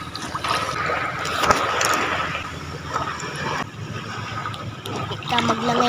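Sea water splashes and sloshes close by as people swim, with irregular bursts of churning water and a few sharper slaps.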